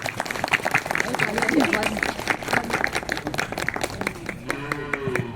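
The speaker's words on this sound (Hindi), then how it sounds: "हम सब तालियों के साथ उनका स्वागत करें" Audience at a women's empowerment yoga and cultural event applauding to welcome a state minister, steady rhythmic clapping throughout, with someone speaking over it near the end.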